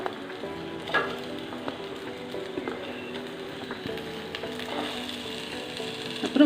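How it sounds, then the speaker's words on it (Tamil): Garlic, shallots and a small tomato sautéing on low heat for a Tamil fish curry, giving a steady soft sizzle with scattered clicks of a spoon against the pan, close by, with no talk. "எல்லாமே சிம்மில் வச்சு வதக்கிக்கலாம்"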